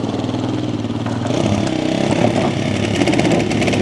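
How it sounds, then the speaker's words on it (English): A quad engine held against its rev limiter, loud and close, a steady buzzing drone with rapid stuttering pulses that grows slightly louder toward the end; no talk. "Rev limiter is preventing it from revving."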